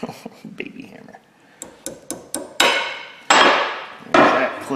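Sharp metallic taps of a small hammer knocking a clip into a U-joint ring out in an uneven series, light at first then several heavier blows with lingering ring, with soft talk in between.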